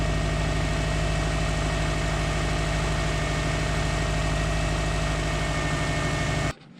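A 20-year-old car engine idles steadily and close, with an even, rhythmic mechanical drone and faint vibration throughout, cutting off abruptly near the end.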